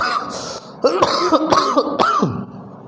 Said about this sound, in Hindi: खांसी कुछ ज़्यादा ही आ रहा है।